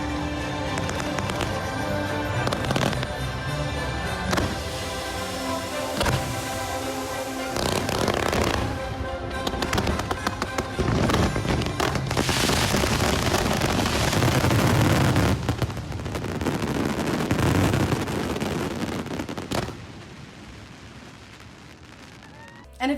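Fireworks show at Disney World, a dense barrage of booming and crackling bursts in quick succession, loud and echoing, building to a heavy finale before thinning out, with crowd voices mixed in.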